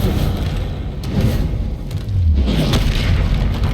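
Spell explosions from the Confringo fire curse in Hogwarts Legacy, heard as a steady stream of deep booms and rumbling thuds with swells of blast noise, loud and close, no voices.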